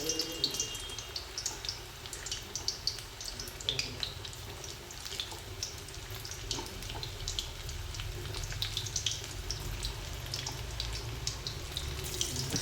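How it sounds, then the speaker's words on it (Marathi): Koftas frying in hot oil in a kadhai, a steady broadband crackle and bubbling hiss that runs for the whole stretch with small irregular pops on top, fairly close and with no voices. "कढईत तेल तापलं आहे, आता आपण कोफ्ते टाकून घेऊया"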